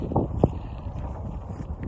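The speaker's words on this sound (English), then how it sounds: "It's pretty windy." Gusty wind buffets the microphone outdoors on a cattle pasture, a low rumbling roar with a couple of sharp knocks near the start and no voices.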